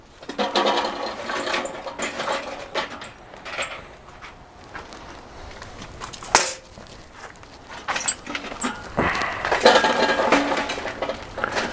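Hot Cowboy charcoal coals dumped out of a chimney starter, a loud rattling, clattering rush of lumps tumbling onto the grate, with one sharp crack midway and continued scraping and shuffling of coals afterward.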